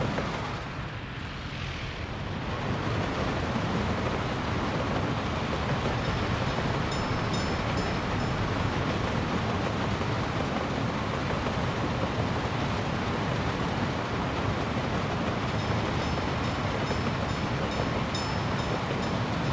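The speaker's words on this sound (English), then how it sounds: "A train." A train rolls past in the W&R Waste video game, a dense, steady rumble and clatter of rail wagons that holds loud and continuous for the whole stretch.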